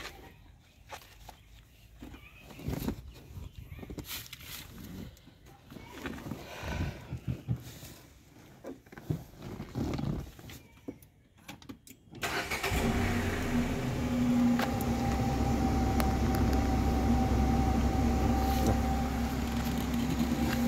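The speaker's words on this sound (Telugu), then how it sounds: "గేర్ న్యూట్రల్ బండి స్టార్ట్ చేయి" A Renault Triber is started after quiet shuffling and handling noises, then settles into a steady, close idle that hums on to the end.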